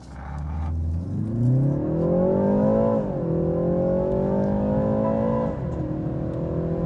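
A BMW 330i petrol sedan accelerating hard in Sport Plus mode, its engine note climbing steadily through the revs, dipping at a gear change, then rising again, loud and continuous from inside the car.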